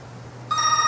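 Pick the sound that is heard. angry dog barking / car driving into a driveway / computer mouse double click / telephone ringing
telephone ringing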